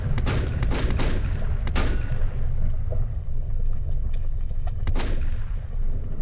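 A defensive turret fires in the video game Volcanoids, sharp gunshot cracks and booming blasts in irregular bursts over a dense, loud rumbling background that runs throughout.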